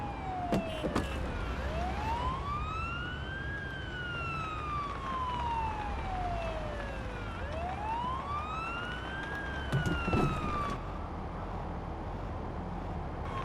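A wailing ambulance siren in the paramedic simulator game Ambulance Life, rising and falling in long slow sweeps over steady road and engine rumble, with a few sharp knocks and clicks mixed in.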